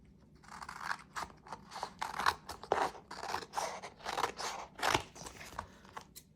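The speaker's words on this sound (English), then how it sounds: "I'm cutting it with scissors and I can't cut a straight line for the life of me" Scissors snip through scrapbook paper in a quick series of crisp, crunchy cuts, close and fairly soft, with short pauses between strokes and no talking.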